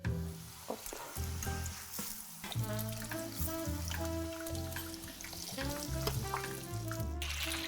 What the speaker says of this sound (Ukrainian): Масло повинно закипіти, а е, смажити потрібно по два чебурека.